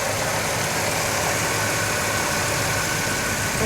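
A stock 1967 Pontiac GTO hardtop V8 idles, a loud, steady, close rumble with even vibration and no revving, running continuously without any talk over it.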